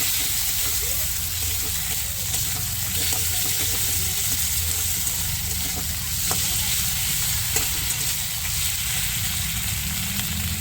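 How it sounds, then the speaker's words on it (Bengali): Crab fries in a pan with ground garlic, cumin paste and spices, a dense continuous sizzle with stirring scrapes throughout, close and steady. "পরিমাণ মতন সব মশলা দিয়ে দিয়েছি, দিয়ে একটু ভালো করে নাড়াচাড়া দিয়ে দেবো।"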